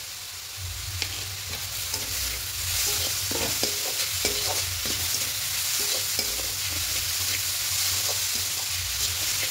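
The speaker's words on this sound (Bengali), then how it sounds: "তো এইভাবে অনবরত নাড়তে থাকবো।" Continuous stirring in a pot while making dudh puli pitha, with a soft steady sizzle beneath repeated scraping strokes, close and moderately loud without any voices.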